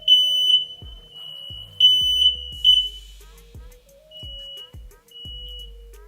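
A home smoke alarm set off by oven heat while chicken wings cook, sharp piercing beeps in short bursts with pauses, close and loud, with scattered clunks in the room.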